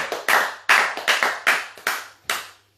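A church congregation claps together in rhythm, about seven sharp, distinct claps in an even beat that end in quiet, with no voices.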